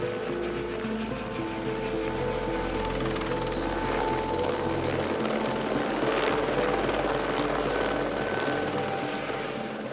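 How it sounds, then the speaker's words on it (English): A helicopter returning after dropping an armed team on a rhino rescue mission in Kenya, its steady rotor drone and turbine whine holding at an even, moderately loud level throughout without any talk. "Pilot Mike Watson returns from dropping the first team"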